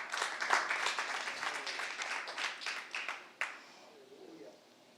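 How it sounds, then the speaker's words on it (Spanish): Church applause during a discipleship class, with scattered claps from a small group. The clapping rises and falls, and a final sharp clap comes before it fades into quiet room tone. "Vamos, los que estemos aquí, un aplauso fuerte al Señor"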